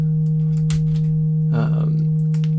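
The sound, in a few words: synthesizer sine wave tone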